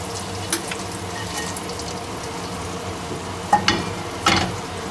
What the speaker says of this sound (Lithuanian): Apkepintus delikatesus beriame į daržovių keptuvę.